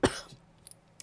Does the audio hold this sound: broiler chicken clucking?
no